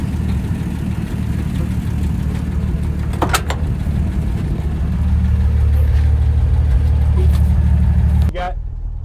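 A 1966 Ford F350 field-find truck running on the road, a loud steady engine drone with rising low rumble before easing off near the end, with a voice speaking over it.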